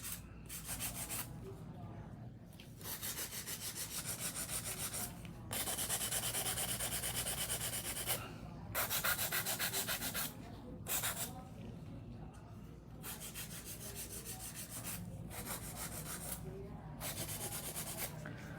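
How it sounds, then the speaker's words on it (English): A nail file rasps along the side walls of acrylic nails in steady, close strokes, the soft scratching repeating in short bursts separated by brief pauses. "so we can just go through and just very, very, very evenly just smooth off the sides, make sure it's nice and even"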